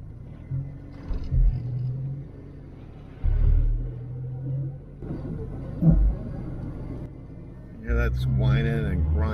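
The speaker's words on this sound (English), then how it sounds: "That's whining and grinding, and that's not good." A Ford Mustang SVO that sat unused for years, its worn rear end whining and grinding while driving, over a steady low engine rumble that swells in bursts, with a rising tonal whine near the end.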